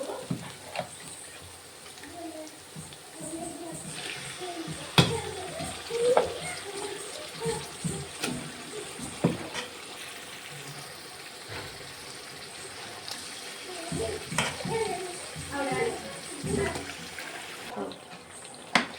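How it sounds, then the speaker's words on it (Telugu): Chicken pieces frying in a pan over onion and paste for a Christmas sambar chicken bagara rice, stirred steadily, with a continuous close sizzle broken by scraping and clattering stirs and faint talk in places. "చికెన్ అయితే చక్కగా కలుపుకుంటున్నాను."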